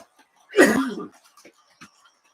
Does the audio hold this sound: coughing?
yes